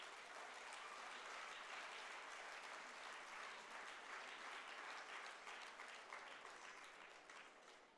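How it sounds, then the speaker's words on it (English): Audience applause at a community trust's 15th annual day celebration, steady dense clapping from a large crowd that holds for several seconds and then gradually fades. "Let us give a big round of applause for all of you for this achievement."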